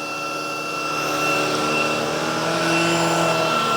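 A Shark PowerPro Flex Pet cordless vacuum, model IZ387H, runs on carpet at increased suction. Its dense, steady whooshing motor roar with a high whine swells louder after the first second and holds close and constant.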